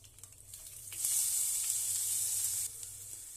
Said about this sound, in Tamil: இப்போ அரைச்சி வச்ச விழுதை இதில் சேர்த்துக்கலாம்.